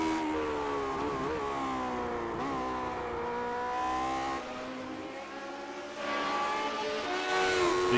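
A historic Formula 1 race car laps Watkins Glen, its engine screaming high and loud through rising and falling revs, easing briefly on a lift before climbing again, heard from inside the car with no talk.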